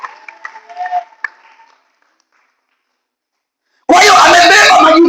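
A church congregation at a Swahili service bursts into loud, sustained clapping and ululation for Jesus, erupting suddenly after a preacher speaks briefly and a short silence falls.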